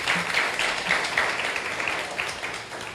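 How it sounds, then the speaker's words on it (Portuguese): Applause from an audience at a book launch event, a moderate, fairly even wash of clapping heard from a short distance, sustained for about three seconds with no voices over it. "aplausos para ele"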